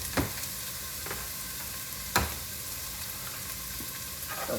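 Cuban sofrito with bay leaf and oregano sizzles steadily in a pan, a constant hiss broken by a few sharp stirring scrapes and taps.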